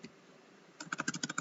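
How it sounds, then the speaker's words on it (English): Quick keystrokes on a computer keyboard, about a dozen close, crisp clicks in a rapid burst after a moment of near silence. "We can just type like that."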